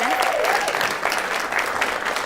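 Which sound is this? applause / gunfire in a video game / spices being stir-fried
applause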